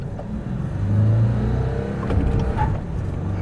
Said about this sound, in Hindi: अब शिफ्ट में भी व्हील स्पिन दे रही है गाड़ी